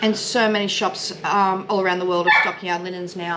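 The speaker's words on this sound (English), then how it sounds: "that's our dog barking" A dog barks and yips repeatedly in short bursts, mixed in under a person talking steadily close to the mic.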